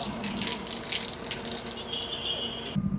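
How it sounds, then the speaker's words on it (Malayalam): Water gushes from a tap into containers, a steady close rush with light rattling that shifts in tone near the end before cutting off. "ഇപ്പോഴേ ഇവിടുന്ന് ഇച്ചിരി വെള്ളം കൂടെ നിറച്ചോണ്ട് പോയേക്കാം."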